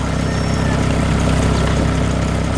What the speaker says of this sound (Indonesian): Mesin pertanian hijau sedang bekerja keras di tengah sawah, menanam benih dengan rapi dan cepat.